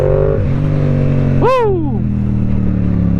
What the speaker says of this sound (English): It can accelerate quickly. 0 to 60 is so fast.